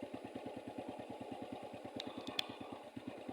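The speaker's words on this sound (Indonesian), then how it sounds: "Juga ada motor di belakang saya." A motorcycle engine idling or riding slowly behind someone, a steady rapid putter of evenly spaced beats, fairly faint, with a couple of brief high clicks partway through.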